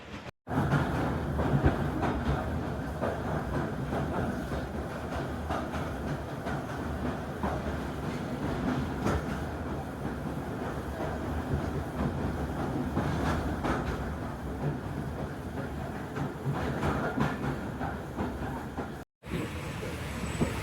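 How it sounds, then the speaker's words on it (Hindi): The 2 Down Khyber Mail express train, hauled by locomotive PHA 208320, passes by Shahdara Junction with a long, continuous rumble and rhythmic clickety-clack of wheels on rails, heard steadily from onboard another train. "PHA 208320 के साथ 2 डाउन खैबर मेल एक्सप्रेस पास कर रही है"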